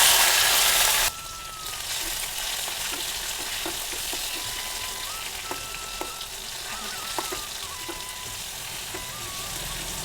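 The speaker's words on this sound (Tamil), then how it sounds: "குழம்பு தாளிக்க எண்ணெய் ஊற்றிக்கலாங்க." Tempering for kuzhambu: mustard seeds, fenugreek and curry leaves hit hot oil in a pan, a loud burst of sizzling that settles into a steady, softer frying crackle with small pops, no talk.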